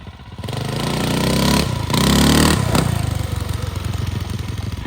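A 25hp mini quad engine running with a muffler fitted, close and loud throughout, revving up twice in short swells before settling back into a steady throbbing idle.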